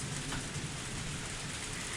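Steady rain downpour in the video game Higurashi When They Cry, a dense continuous hiss of falling water at even loudness with no voices over it.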